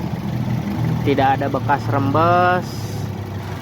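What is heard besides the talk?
Toyota Vios 2015 engine idling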